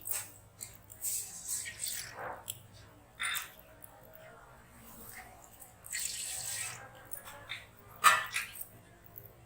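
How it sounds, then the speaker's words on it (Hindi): Three glasses of water are poured, one after another, into a cooking pot on a home kitchen stove while preparing Punjabi sarson ka saag, giving several separate splashing bursts with quiet gaps between them. "अब मैं पतीली के अंदर 3 गिलास पानी डालूंगी"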